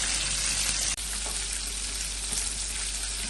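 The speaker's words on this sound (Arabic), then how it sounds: "يلا هنخلص تحمير ونوريكم بعدين" Chicken frying in a pan of hot oil, a steady dense sizzle that runs loud and unbroken, with a brief dip near the start, and no talking.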